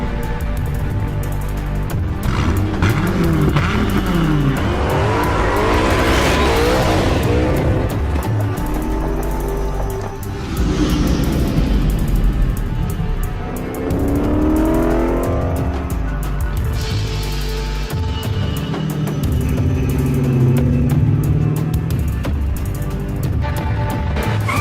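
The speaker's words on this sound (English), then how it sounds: "Dodge Viper, created like no other car in the world." A Dodge Viper sports car roars with engine revs that swell and fade several times, mixed with squealing tires and passing sweeps, loud and busy throughout with no speech.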